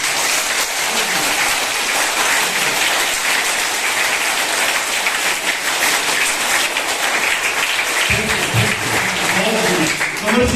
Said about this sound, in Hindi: और दोनों हाथ ऊपर उठा के ताली करें।